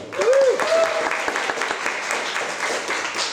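A round of audience applause at an arts event, steady clapping throughout, with a voice briefly rising over the start.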